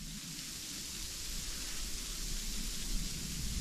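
Rain or sleet falling outside near a lake in winter, a steady dense hiss that holds evenly throughout with no voices.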